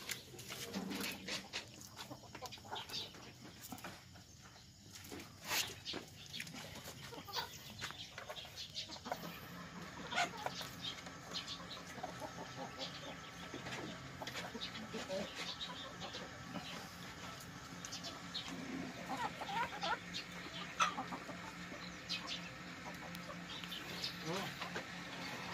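Chickens clucking on and off against a busy background of farmyard noise and a voice talking, moderately distant and fairly quiet.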